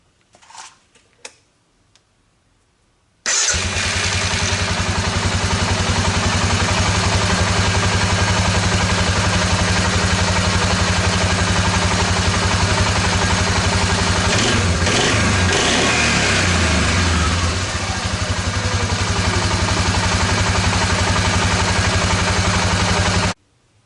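Suzuki ATV engine with a repaired fuel shutoff valve diaphragm fires up after a few faint clicks, then runs steadily at a loud, close, even idle for about twenty seconds before cutting off.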